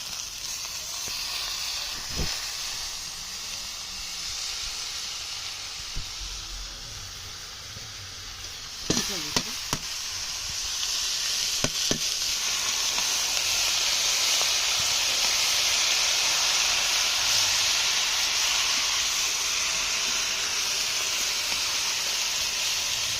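Washed, chopped greens hit a hot pan with a loud, steady sizzle and hiss that swells and holds. A few soft clinks sound just before, and no one speaks.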